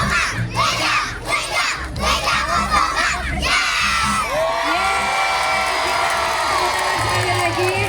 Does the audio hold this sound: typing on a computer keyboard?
no